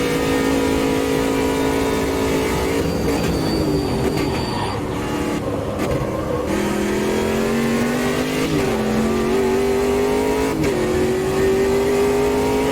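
Ginetta G58 race car engine in the Automobilista 2 racing game, revving loud and steady through the whole stretch with rising pitch sweeps as it accelerates and brief dips at gear shifts, no voices.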